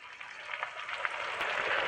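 Onions frying in a wok for a mutton dish, a soft, even sizzle with faint crackles, quiet and steady with no voices.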